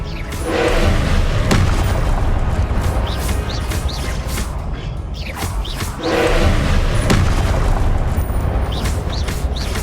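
Confringo explosion spells in Hogwarts Legacy, two loud, booming blasts a few seconds apart, each swelling into a sustained roaring rumble with crackling bursts layered on top.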